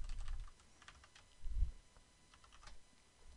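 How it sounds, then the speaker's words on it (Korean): Quick keystrokes on a computer keyboard as a password is typed into a WiGig UB3200 router's admin page, a faint close run of light clicks with a couple of heavier key thumps and no talking. "처음에 기존 비밀번호를 입력하고요"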